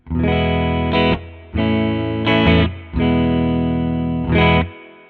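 Clean electric bass notes through a clean amp ring out in sustained phrases, each held about a second, with a light reverb tail and short gaps between them.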